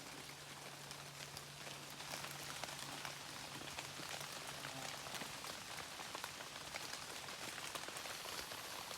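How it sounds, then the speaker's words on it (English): Rain falls steadily in a forest, a dense, even patter of drops on leaves and surfaces that stays constant and fairly close, with a faint low hum briefly underneath early on. "How long did we get wet in the rain for?"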